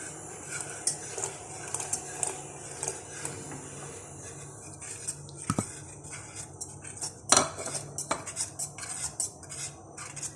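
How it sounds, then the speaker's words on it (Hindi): A spoon scrapes and clinks against a pot while custard is stirred to keep it smooth, with soft irregular metallic taps and scrapes, a few sharper knocks, close and fairly quiet without talk. "चम्मच हिलाते रहेंगे ताकि गुठलियां ना बने।"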